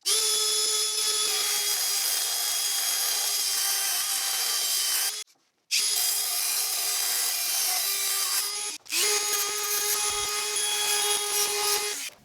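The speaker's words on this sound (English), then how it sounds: "what I'm gonna do is cut about a 1/2 inch of this Allen wrench off" A power tool cuts about half an inch off a steel Allen wrench, producing a loud, steady high whine with a strong tonal edge, running for several seconds, briefly stopping twice, then resuming, close and without talk.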